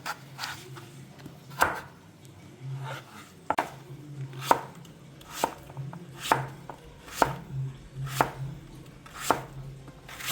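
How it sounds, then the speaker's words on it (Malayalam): Knife chopping papaya into small pieces for pachadi on a cutting board, a steady series of crisp, close taps at an uneven rhythm with short pauses, each stroke sharp and distinct against a quiet background. "നമുക്കിത് പച്ചടിക്ക് വേണ്ടിയിട്ട് ചെറിയ പീസായിട്ട് കട്ട് ചെയ്തെടുക്കാം"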